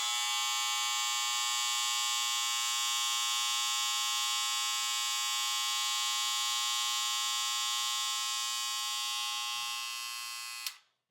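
A Wahl Cordless Senior hair clipper runs with a loud, steady, high-pitched buzz for about ten seconds, then cuts off abruptly.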